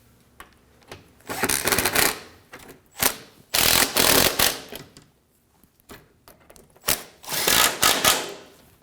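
Ratchet snugging bolts on a water pump of a 2009-2014 Ford F-150 3.5L V6, heard as bursts of rapid clicking separated by short pauses and single clunks, close up with no speech.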